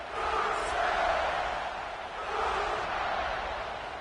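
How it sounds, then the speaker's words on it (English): A stadium crowd in the NCAA 26 college football video game chants Boomer Sooner for Oklahoma, a broad sustained roar swelling and dipping in two long waves, loud and continuous with no clear speech over it. "You can already hear the crowd going Boomer Sooner."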